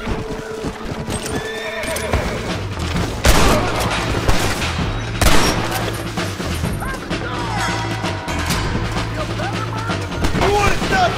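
A gunfight in the Red Dead Redemption game: bursts of gunshots ring out among horse whinnies and clip-clop hooves, with loud cracks near 3 and 5 seconds and scattered shots throughout.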